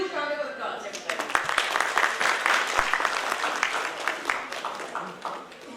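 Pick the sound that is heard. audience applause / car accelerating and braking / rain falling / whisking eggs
audience applause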